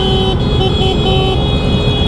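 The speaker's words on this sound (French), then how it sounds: "Ah, il est revenu le klaxon." A motorcycle horn sounds continuously on a French street during a protest against paid two-wheeler parking, a steady loud tone over traffic noise with no pauses.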